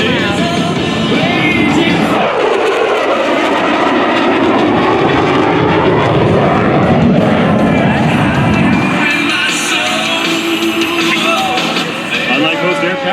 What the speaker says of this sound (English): After approaching the ship at a high rate of speed and executing a hard turn, BAM will then lower the landing gear and perform his landing checks.